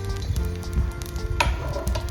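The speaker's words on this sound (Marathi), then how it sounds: "हे सर्व मिश्रण आपण व्यवस्थित लोखंडी तव्यावर भाजून घेणार आहोत" Spices sizzle and crackle softly on a hot iron griddle, with faint scraping as they are stirred, quiet and continuous.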